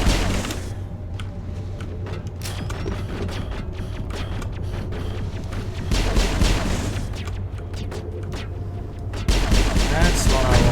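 Rapid bursts of video game gunfire from Mass Effect, dense and continuous with heavy low booms and clattering shots throughout, getting louder near the end, with a voice talking over it.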